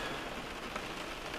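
Steady rain falls outside on a cold day with sleet and snow on the way, a soft, even hiss of drops on surfaces with nothing else standing out.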